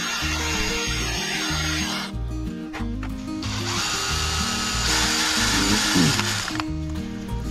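A power drill bores steadily through a stuck bolt to extract it, with a continuous loud grinding whine that shifts pitch as the bit bites and the motor loads up, close by and uninterrupted.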